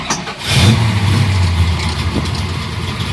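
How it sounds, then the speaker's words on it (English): 1957 Chevrolet street rod with a full roller V8 and a TKO 500 five-speed cranks, fires and settles into a loud, lumpy idle with a brief rev, heard up close. "I'm going to start it up for you so you can hear it run."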